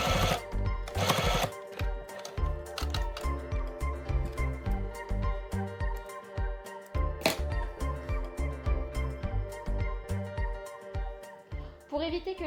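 A sewing machine stitches a child-size fabric face mask in short, close, rhythmic bursts of clattering needle strokes with brief pauses between runs, and background music plays throughout.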